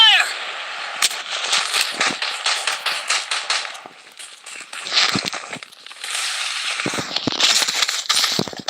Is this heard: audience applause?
no